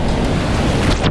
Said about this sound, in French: Que les vagues sont un peu vénères.